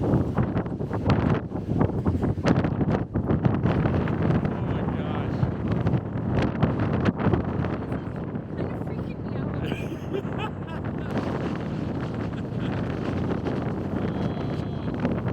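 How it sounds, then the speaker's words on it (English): Strong coastal wind at Astoria, Oregon buffets the microphone with a loud, continuous roar and gusty rumble that stays steady for the whole stretch. "This wind is crazy."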